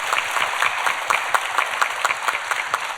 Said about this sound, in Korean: 이 그룹에도 박수 부탁드릴게요